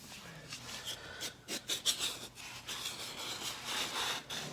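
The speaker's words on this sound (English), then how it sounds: "Just going to clean up some of the glue off the floor." Dried glue being scraped off a floor during a pallet-wood claustra build makes faint, uneven rasping and rubbing strokes, with no talk over them.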